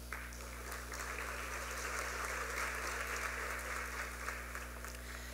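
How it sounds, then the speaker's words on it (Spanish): Applause from the audience at an international legal seminar panel, a continuous even patter of many hands at moderate distance over a low steady hum, without speech. "La recibimos con un fuerte aplauso."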